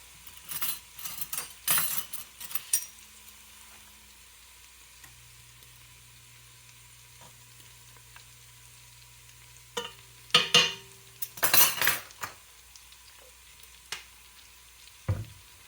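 Garlic sizzles in olive oil in a pan, with brief bursts of frying hiss and clinking utensils as it is stirred, separated by quiet stretches with a faint hum.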